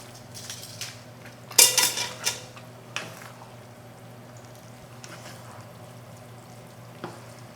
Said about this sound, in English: So now let's turn up again. Add the noodles.